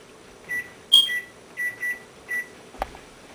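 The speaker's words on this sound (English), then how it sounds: "Set the timer on the microwave." A series of short electronic beeps from keypad presses, then a brief click, heard nearby in a quiet room.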